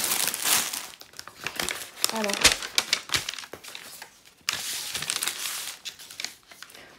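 A paper sheet from a diamond painting kit crinkles and rustles in bursts close by, with a single short spoken word early on.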